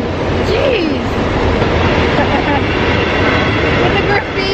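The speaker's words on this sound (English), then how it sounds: "So there's the train." A train sits at track 4 of Bergamo's railway station platform, heading for Milan Central. It gives off a loud, steady rumble and hiss that runs unbroken through the whole stretch, close by.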